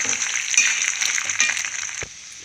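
Peanuts frying in a pan for Ugadi dishes, a bright continuous sizzle with small crackles and a soft clink near the end, close and fairly loud with no talking.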